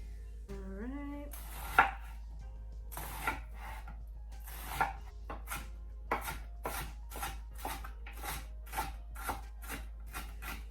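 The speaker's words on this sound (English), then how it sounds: "I'm gonna chop up 1 yellow onion, peel it." A peeled yellow onion being chopped with a knife on a cutting board, a steady run of crisp, close knocks that come faster and more regularly toward the end, over a low hum.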